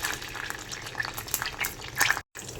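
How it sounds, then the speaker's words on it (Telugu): Peanuts frying in hot oil in a pan for a tamarind pulihora tempering, giving a steady close crackle with brief louder bursts, a sudden short gap near the end, no talking. "ఆయిల్ వేడిన తర్వాత పల్లీలు వేసుకోవాలి"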